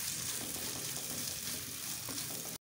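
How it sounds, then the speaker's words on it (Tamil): Onions sauté in a pan for a kothu kari fry, sizzling steadily and close with faint stirring. The sound runs evenly, then stops abruptly. "வெங்காயம் நல்லா வதங்கிடுச்சு"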